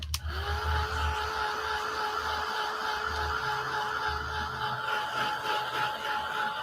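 A handheld dryer blows steadily while drying Mod Podge on a craft piece, giving a continuous close whirring drone with a faint motor whine that holds without a break.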